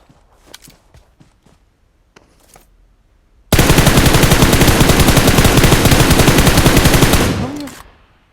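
M4 rifle fire in the PUBG Mobile video game, a loud, continuous automatic burst lasting about four seconds that follows a few quiet footsteps and clicks, then cuts off abruptly.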